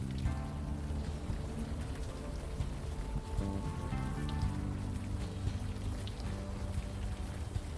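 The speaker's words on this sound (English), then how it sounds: "Still raining." Steady rain falls in the game Unavowed, a constant patter running through the whole stretch, with a soft tonal music bed underneath and no voices.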